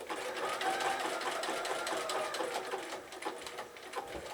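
A sewing machine running a zig-zag stitch over birthday bunting applique, with a steady rapid mechanical chatter that holds close and loud throughout, easing slightly near the end with a few brief pauses.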